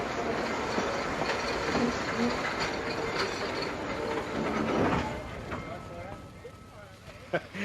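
Steady rumble and clatter of a train at Weybridge Railway Station, with scattered mechanical clicks and a sharp clank near the end; voices murmur faintly underneath.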